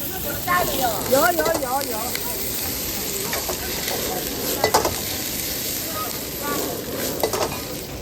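Noodles fry in a pan with a steady, loud sizzle, while a utensil stirs and scrapes through them at irregular intervals.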